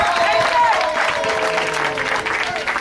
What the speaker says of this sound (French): Les applaudissements sont là parce que c'est la vérité